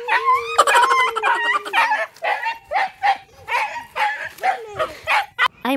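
A dog barks and whimpers repeatedly in short, close, loud bursts with high yips, heard outdoors while climbing a mountain, with a person speaking briefly.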